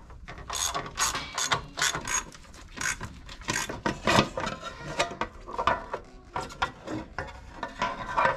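A ratchet clicks rapidly in repeated bursts, close and distinct, while the chain cover is taken off a Honda CB750 Four motorcycle, with short pauses between strokes.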